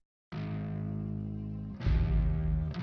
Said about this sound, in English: And then I have one section of the song that has electric bass.